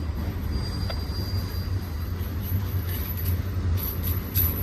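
A military DOD freight train rolls past near Cajon Pass, its steady low rumble broken by the clank of flat wheels and a thin wheel squeal, continuous and fairly close with no talk.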